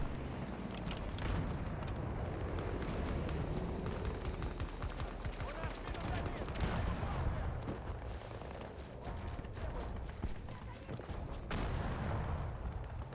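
Dense, continuous gunfire and explosions from the video game Battlefield 2042, loud and sustained with bursts and booms throughout, with some voice chatter mixed underneath.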